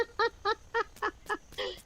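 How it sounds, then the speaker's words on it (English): A rooster in the farming video game Dinkum calls out in a quick series of about seven short, clipped honking cries, evenly spaced and fairly clear, with a louder final call and no talk. "Love to hear the rooster every morning in the update."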